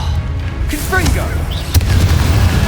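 A Confringo fire-blast spell goes off in Hogwarts Legacy with a loud, booming explosion that rolls on under a brief voice, filling the whole moment with heavy low rumble.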